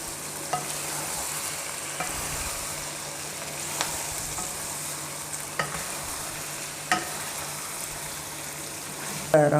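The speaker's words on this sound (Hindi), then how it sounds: "भिंडी हमने शामिल कर दिया। इसको मिक्स कर लेते हैं बिल्कुल हल्के हाथ से।" Okra fries in a pan under a continuous sizzle while it is gently mixed, and occasional soft utensil taps stand out over the steady frying.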